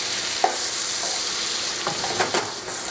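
Shrimp with garlic powder frying in a pan for lemon butter garlic shrimp, giving a steady close sizzle with a few brief clicks and stirring scrapes.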